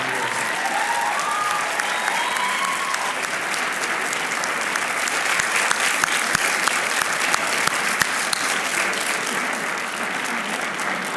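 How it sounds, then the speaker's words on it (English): A graduation audience at Cushing Academy applauding the teachers, a large crowd clapping loudly and steadily throughout, with faint murmuring mixed into the dense applause. "I would also like to invite you to applaud your teachers"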